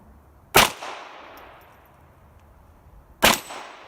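Two sharp, loud gunshots from a small gun during target shooting, about two and a half seconds apart, each followed by a short fading ring.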